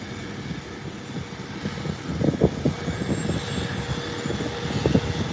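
A jet airliner rumbles through its takeoff roll at an airport, a low continuous engine roar heard from a distance that swells slightly as it goes on.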